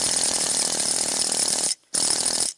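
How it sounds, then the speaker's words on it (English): A loud, continuous rattling hammer of a pneumatic chisel chipping heavy, scaly rust at close range, stopping briefly before starting again. "You got a little jackhammer"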